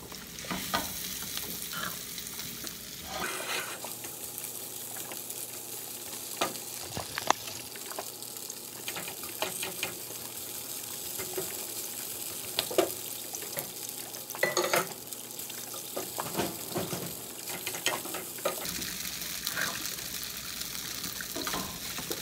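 Hash browns fry in a pan with a steady close sizzle, punctuated by occasional scraping and stirring clicks, moderately quiet with no talking.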